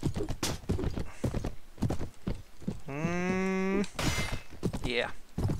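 A horse in the video game A Clash of Kings clip-clops with rhythmic hoofbeats and lets out a loud whinny partway through. Someone talks over the sounds.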